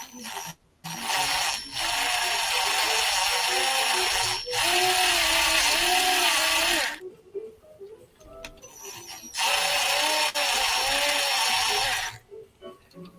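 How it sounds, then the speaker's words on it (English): Handheld Dremel rotary tool with a flat-end bit cleaning up a workbench piece: loud, steady high-pitched whining bursts of several seconds each, separated by brief pauses as it spins down and restarts. "I got to clean it up with the flat end Dremel."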